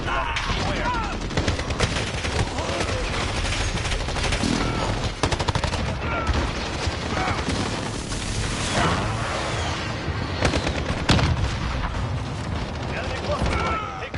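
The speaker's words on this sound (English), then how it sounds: "Allied precision airstrike incoming." Airstrike explosions and heavy gunfire in the video game Modern Warfare, loud and continuous, with rapid bursts, booms and overlapping shots, and voices partly buried underneath.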